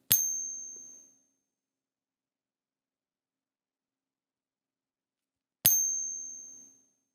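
Two separate pings from a coin tester striking a fake Silver Eagle coin, each a bright, clear ring that fades over about a second, spaced several seconds apart in a quiet room.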